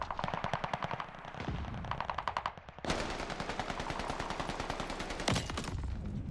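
Rapid automatic gunfire from Call of Duty: Vanguard during an online match, sustained bursts of rattling shots with a brief pause, then a dense renewed volley and a louder single blast near the end, loud and close.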